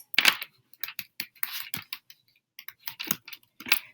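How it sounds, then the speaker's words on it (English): Someone types on a computer keyboard while entering text into a document, producing quick irregular clusters of soft key clicks with brief pauses, close and with no talking. "So you could start typing things in, typing text here."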